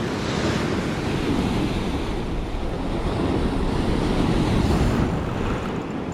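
A rough sea churns and crashes on the shore at a remote fishing spot, heard as a loud, constant roar of surf mixed with wind buffeting the microphone, with no voices.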